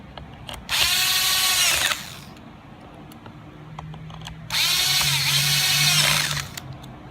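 Power drill boring holes in 2014-and-later motorcycle 8.8 speaker lids, two loud, close bursts of whining motor, each about a second long, separated by a quieter pause with a low hum.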